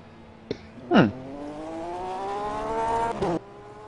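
A Ferguson P99 race car engine holds a steady, rising whine that climbs slowly in pitch for a few seconds, preceded by brief sharp knocks and ending abruptly; fairly close, with no talk.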